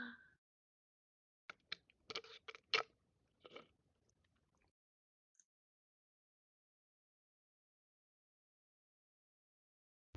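Chewing on boba pearls: a short run of soft, wet crunching and biting sounds, close and fairly quiet, lasting a few seconds and then falling into near silence.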